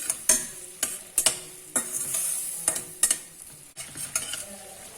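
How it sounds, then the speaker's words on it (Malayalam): Chopped green chillies and curry leaves stirred in hot oil in a pan for spicy green chilli fried rice, a steady close sizzle broken by sharp scraping strokes of a spoon roughly every half second, with no talk. "അരിഞ്ഞു വെച്ചിരിക്കുന്ന പച്ചമുളക്, കുറച്ച് കറിവേപ്പില ഞാൻ അരിഞ്ഞതും കൂടി ഇട്ടു."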